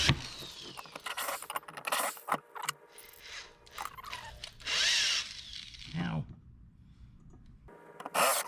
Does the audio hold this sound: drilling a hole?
yes